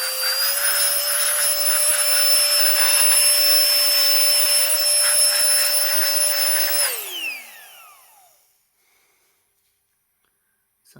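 A Nitecore BB Nano electric air duster blowing out dust from a keyboard, with a loud steady high-pitched whine running for about seven seconds, then spinning down smoothly to silence.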